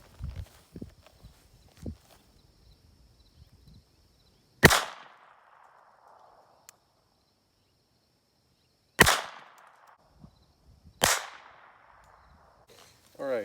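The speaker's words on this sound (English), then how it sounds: "Next gun is a Beretta Model 21A in 25 Auto." Three sharp, loud pistol shots from a Beretta Model 21A in 25 Auto, spaced several seconds apart, each a crisp crack with a brief tail, between quiet handling noises outdoors.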